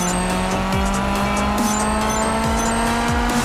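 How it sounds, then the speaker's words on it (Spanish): An offroad Jeep in a video game descending a track at night, with a steady synthetic engine drone, periodic gear-like sweeps and bright electronic chimes over a constant loud mix. "bien concentrado en la conducción de mi auto Jeep"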